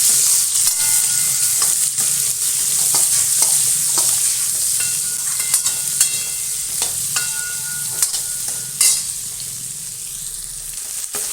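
Onions and garlic sautéing in a pan give a steady sizzle, with a spoon stirring and scraping at irregular intervals, close and fairly loud with no talking.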